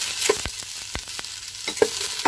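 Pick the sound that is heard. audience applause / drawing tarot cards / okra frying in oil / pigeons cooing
okra frying in oil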